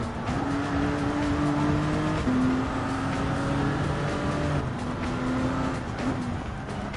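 A Gr.1 prototype race car in Gran Turismo 7 runs flat out on a lap of Michelin Raceway, its engine a loud, steady high-revving drone with shifts in pitch as it changes gear, heard alone without talk.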